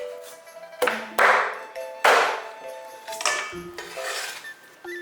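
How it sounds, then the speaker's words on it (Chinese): A knife chops cleaned sea bass into small pieces on a board, sharp irregular whacks with ringing metallic overtones, several strokes spaced apart up close in a quiet kitchen. "洗干净的鲈鱼，现在把它切小，切成1公分左右就可以"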